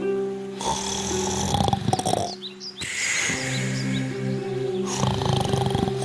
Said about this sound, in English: The wolf lay under a tree on the yard and started to sleep, snoring.